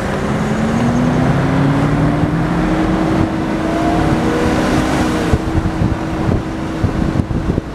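A 1973 Mercedes 450SL R107 convertible roadster rolls down a ramp, its engine a steady, continuous drone with rising and falling tone under constant wind buffeting the microphone, ending with a few bumps and knocks.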